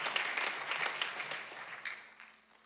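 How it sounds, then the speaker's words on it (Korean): Church congregation at a Sunday service clapping in a brief burst, many hands together that gradually thin out and fade. "박수야"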